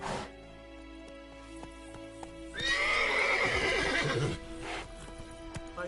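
Roach, a horse in The Witcher game, gives a loud, close whinny lasting a couple of seconds, with soft hoof clops before and after over quiet background music.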